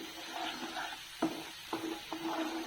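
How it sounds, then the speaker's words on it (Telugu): A spice mixture for chicken curry fries in oil as a quiet, soft sizzle, with a few light clinks and scrapes of a stirring spoon against the pan. "ఆయిల్లోనే ఈ మిశ్రమం అంతా వేగాలండి"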